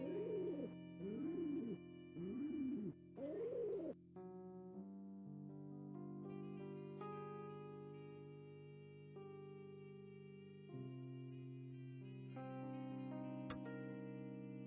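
A dove coos inside the puzzle video game Cube Escape, four soft rounded warbling phrases in a steady rhythm, alone and fairly close, followed by sustained musical tones.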